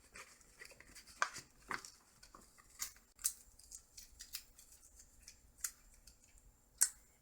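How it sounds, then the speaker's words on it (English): Embroidery stabilizer being torn away from a stitched corset bag, a series of short, sharp ripping and snipping sounds at irregular intervals, close and fairly quiet. "And tear away our stabilizer."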